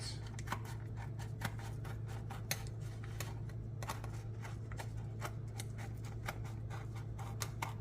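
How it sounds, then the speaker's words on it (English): Quiet, irregular snips and clicks from scissors cutting through a mosaic tile sheet, spaced a fraction of a second apart over a steady low hum. "I have to use my scissors and cut it with my scissors."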